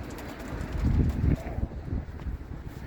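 Low, soft cooing from tumbler pigeons, close by, with wind rumbling against the microphone throughout.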